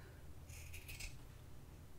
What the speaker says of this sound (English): you're going to use some sharp fabric scissors and just cut those squares out